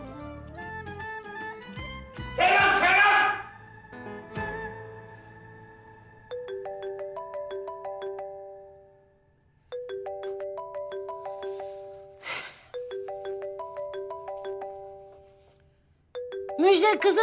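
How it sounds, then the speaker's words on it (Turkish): A phone ringtone plays a bright, repeating melody in several bursts with short pauses between, clear and fairly close. "telefonun çalıyor."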